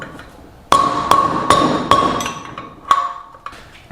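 Sharp metal hammer whacks drive out a stuck dirt bike wheel bearing, six loud ringing strikes at uneven intervals, close and alone.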